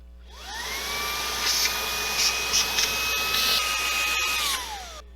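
A Makita 18-volt handheld blower fitted with a vacuum attachment spins up with a whine, holds a steady high-pitched whir for about four seconds, then winds down. Close and loud, with a few brief rattles over the drone and no talking.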